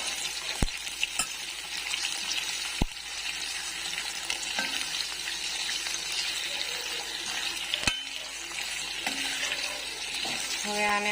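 Potato chip curry being stirred in a pan with turmeric, giving a steady soft sizzle and frying hiss with occasional sharp scrapes and clinks of the spoon against the pan, close and continuous.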